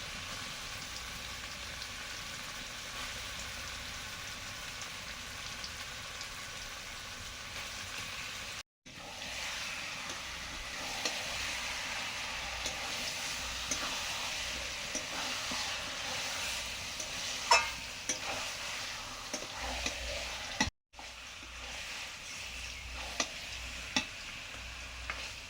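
Meat hisses and sizzles in a pan with spice paste while being stirred for a chicken dish, a continuous close frying noise with occasional scraping clicks, broken by two brief pauses, and no talk.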